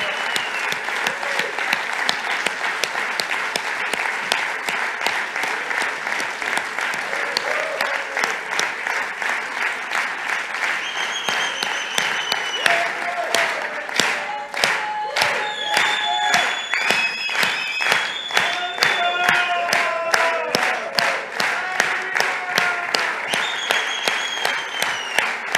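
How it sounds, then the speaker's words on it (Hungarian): A church congregation applauds at length during a Hungarian sermon service, a dense, loud wash of clapping that grows more rhythmic toward the end, with scattered voices and a few shouts rising above it. "nagy-nagy tapsot adjunk Jézus Krisztusnak"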